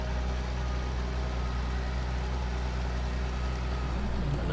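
A farm tractor's engine runs steadily with a deep, throaty growl, a constant close rumble with no change in pace and no voices over it.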